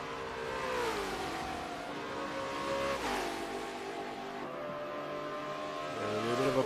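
Supercars race cars battling side by side at the Round 2 race meeting, their engines roaring and shifting pitch continuously, fairly loud and close, with no talk over the noise.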